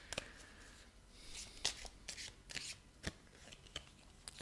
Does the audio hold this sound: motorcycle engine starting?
no